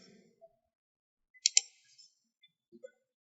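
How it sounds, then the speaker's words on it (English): Quick computer mouse right-click: a tight pair of sharp clicks close to the mic, then a couple of faint ticks in an otherwise quiet room. "Right click, then we set end."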